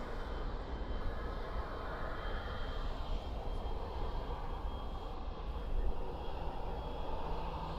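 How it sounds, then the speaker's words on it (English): An American Airlines Boeing 777 jet airliner rumbles at DFW airport at night, a steady broad distant roar with no talk. "American Airlines flight 681 from Cancun, 777"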